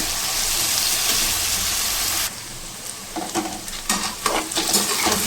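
Taro (arbi) pieces drop into hot oil for a gravy-style sabzi: a steady loud sizzle first, then a softer crackling fry with scattered spits and pops, close by with no talking.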